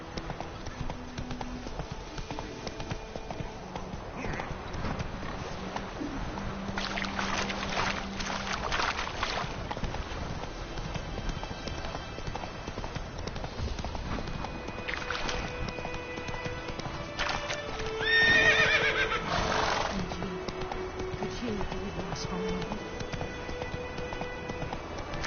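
Roach, a horse in the video game The Witcher 3, gallops with a steady, rapid clip-clop of hooves under a wind-like ambience for about 25 seconds, with a louder swell near the end but no clear neigh; faint game voices occasionally break in.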